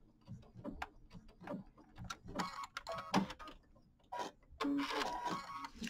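A sewing machine ties off stitches on a Kimberbell mini quilt, with short irregular bursts of mechanical clatter and ticking, some louder runs near the end, and no talk.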